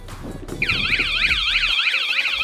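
A loud electronic van alarm, set off by trying the side door, kicks in after a brief rumble, wailing in a fast, rising-and-falling siren pattern that repeats steadily.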